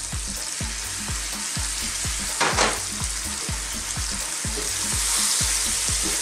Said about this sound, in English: Now at this point I'm going to introduce some chopped tomatoes.